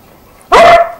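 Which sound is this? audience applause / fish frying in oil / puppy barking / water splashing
puppy barking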